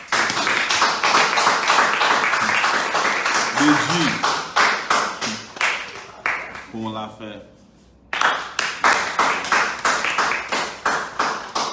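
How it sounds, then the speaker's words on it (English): Rhythmic clapping from an audience at a Lagos town hall meeting, steady and fairly loud, breaking off briefly in a near-silent gap before resuming; a voice speaks faintly beneath it. "So please, you guys give a round of applause to our"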